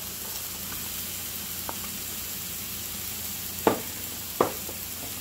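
Diced apples sizzle in a frying pan alongside onions for a roast pork loin, a steady soft hiss with a few sharp clicks of stirring near the end and no talk.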